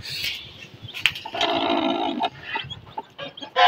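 Chickens and six newly hatched chicks in a farmyard pen give close, loud clucks and high peeping calls in quick irregular bursts, with no voices.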